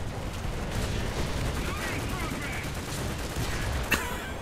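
A T-35 multi-turret tank fires its 45 mm gun during a War Thunder battle; one sharp report cracks out near the end over a constant rumble of game noise.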